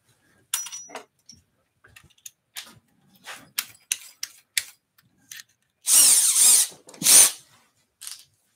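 A power drill backs off a woodturning lathe faceplate in a workshop, with short bursts of whirring and clicks followed by two louder sustained drill runs near the end, close and without talk.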